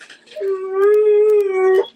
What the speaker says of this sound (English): my dog wants to talk too